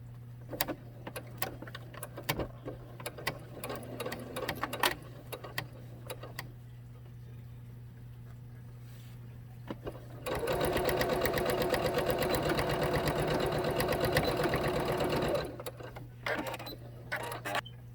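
A sewing machine stitches a cloth face mask in one steady, close run of about five seconds, with scattered handling clicks and a low hum before and after.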